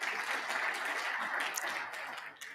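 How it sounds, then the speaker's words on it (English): Sustained applause from an audience at a skills-sector stakeholder roadshow in Johannesburg, a steady wash of many hands clapping at even volume throughout, tapering slightly at the end. "If you can also give them a round of applause."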